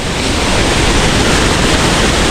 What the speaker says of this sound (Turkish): Turkuaz renginde harika bir şelale.